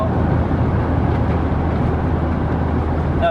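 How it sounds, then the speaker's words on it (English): Mk1 Volkswagen Golf GTI on a standard exhaust, driven at speed: a steady, loud engine and induction roar that runs unbroken throughout, with no talk. "Now the induction roar you're hearing is pure Mark 1 Golf sound."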